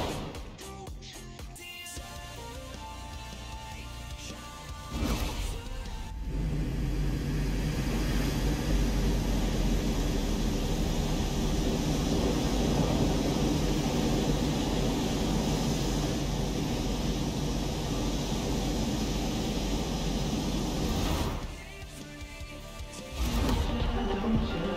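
A jet aircraft roars steadily overhead in a Forza Horizon 4 showcase race, a loud, sustained engine rush lasting around fifteen seconds, mixed with game sound before and after.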